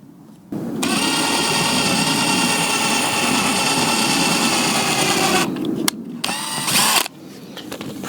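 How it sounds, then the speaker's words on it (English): A power drill pre-drills a hole for a 12 mm screw through leather and metal on a gaming table frame: a loud, steady high whine for about five seconds, then two short bursts separated by pauses. "Pre-drill that a bit."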